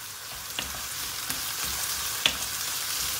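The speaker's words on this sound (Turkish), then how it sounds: "Biberleri de hafiften içinde bir kavuracağız." Green peppers sauté with onions and carrots in a pot, making a soft, continuous sizzle with a few sharp pops and clicks of stirring, fairly quiet and without talk.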